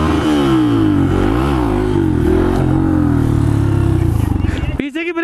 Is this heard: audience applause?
no